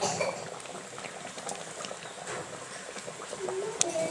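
A ribbon fish curry bubbles steadily in a pot after the lid is lifted, with continuous close boiling and a few light clinks of stirring, fairly loud throughout.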